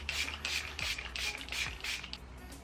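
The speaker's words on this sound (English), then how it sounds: "I'm going to use my Huda Beauty setting spray" Several quick hissing bursts of Huda Beauty makeup setting spray, a loud, close, alcohol-based mist puffing out in a steady rhythm of about five sprays with short gaps between.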